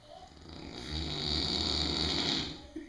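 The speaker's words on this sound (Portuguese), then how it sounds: "Vai de pertinho lá pra escutar o ronco." A pig snoring close up, a single long rasping drawn-out breath that swells and fades, fairly quiet, with faint background noise.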